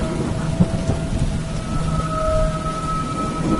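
A thunderstorm with steady heavy rain hisses throughout, with a low rumble of thunder underneath and a faint tonal hum, close and continuous with no talk.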